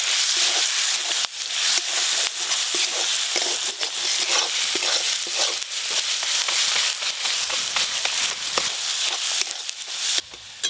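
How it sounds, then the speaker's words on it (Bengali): Onion, ginger, garlic and chopped tomato with salt and turmeric sauté in a hot pan, crackling and sizzling loudly up close while a spoon stirs and scrapes in an irregular rhythm. "ভালো করে সব কিছু কষা হয়ে গেছে"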